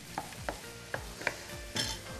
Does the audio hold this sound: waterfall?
no